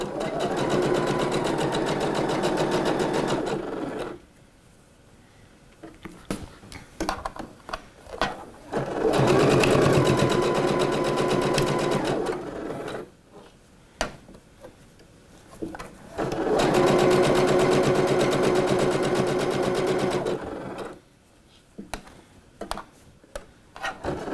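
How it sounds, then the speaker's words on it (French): A domestic sewing machine stitches a dress seam 1 cm from the edge, running in three long loud bursts of rapid whirring separated by quiet pauses and brief handling sounds. "on va venir les piquer à la machine à 1 cm du bord"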